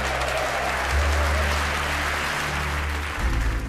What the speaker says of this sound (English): So please, a wonderful round of applause for Mr. Tom Smith.